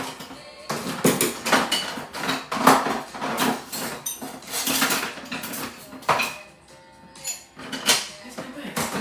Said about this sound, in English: I'm getting a whisk